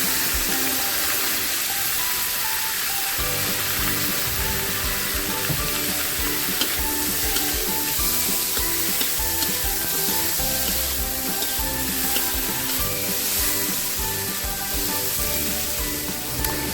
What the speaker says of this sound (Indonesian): Kita aduk sebentar hingga tempenya berubah warna ya